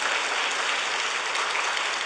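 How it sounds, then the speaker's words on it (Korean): A church congregation applauds warmly during a Saturday evening revival service, a short burst of dense, even clapping that fills the room. "뜨겁게 한번 박수하겠습니다"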